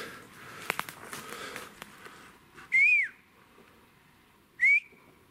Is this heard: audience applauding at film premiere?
no